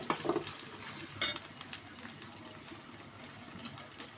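Ginger, garlic and cumin paste frying with onions in oil, a steady low sizzle with occasional utensil clinks and stirring scrapes, quiet and close, no voices.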